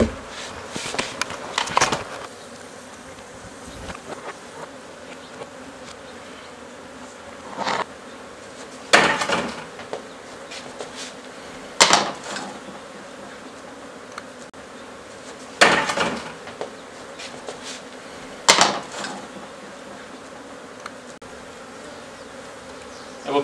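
An angry swarm of Africanized honeybees buzzes steadily throughout, with repeated sharp knocks and clatters of handling equipment rising over the drone at intervals.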